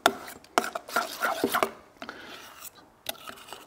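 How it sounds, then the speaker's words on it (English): A spoon scrapes and rubs around a bowl while Russian dressing sauce is mixed, giving bursts of close, rasping strokes with short pauses between them. "now we're going to give this a good mix up"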